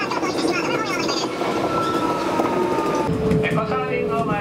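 A four-car Kintetsu Minami Osaka Line commuter train on a weekday morning approaching Kashiharajingu-mae, steady loud rumble and clatter of wheels on rails inside the car, with an onboard announcement voice over it.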